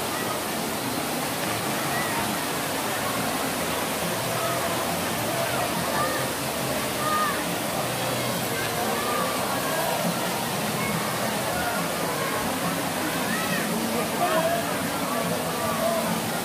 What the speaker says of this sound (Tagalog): Ito ngayon yung falls.